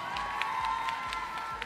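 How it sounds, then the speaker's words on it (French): A crowd at an ESWC Winter 2017 Just Dance competition applauds and cheers for a dancer, a steady wash of clapping and shouts over a droning background, sustained for the whole short moment. "On l'applaudit bien fort s'il vous plaît"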